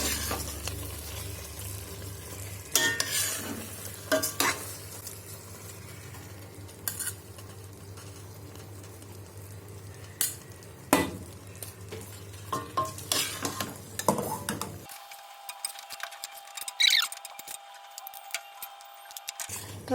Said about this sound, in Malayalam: റൈസ് ചെറുതായിട്ട് മിക്സ് ചെയ്ത് പോവാം.